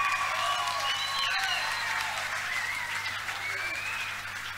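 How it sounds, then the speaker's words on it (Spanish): A crowd at a lively Tren Loco show in Bahía Blanca applauds for the women present, a dense continuous wash of clapping and crowd noise holding steady throughout, with some cheering mixed in. "Un aplauso para las mujeres"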